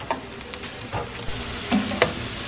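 Steak searing in a hot pan alongside chanterelle mushrooms and wild ramps gives a close, steady sizzle punctuated by a few soft clicks and scrapes.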